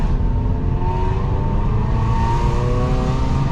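A Dodge Dart engine with an MPX header and stock exhaust drones steadily and loudly while driving in second gear, with a deep rumble and a rising engine tone, heard close from inside the car.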